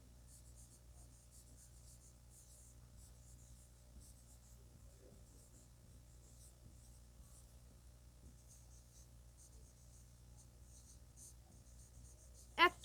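A pen scratches faintly on paper as an equation is written. Soft, continuous strokes run through the quiet stretch, followed by a brief louder knock at the very end.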